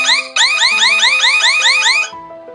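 A Sharp AQUOS Wish5 smartphone plays its shake-alarm alert, a loud, rapid, repeating electronic warble with rising sweeps over a steady tone, cutting off abruptly after about two seconds.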